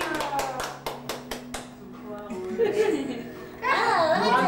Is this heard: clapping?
yes